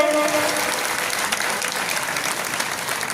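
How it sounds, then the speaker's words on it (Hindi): Audience applause at a saints' gathering at the Narsingh Dham ashram in Jammu, a dense, steady wash of many hands clapping throughout, loud and close with faint voices underneath. "इनके लिए आप एक बार जोरदार ताली मार दो, एक बार और मार दो, एक बार और मारिए।"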